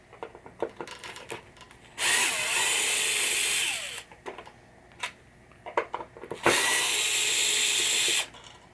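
A power tool whirs in two loud bursts of about two seconds each, backing out the screws of a pop bumper on a 1967 Williams Blast Off pinball machine, with clicks and handling taps between runs.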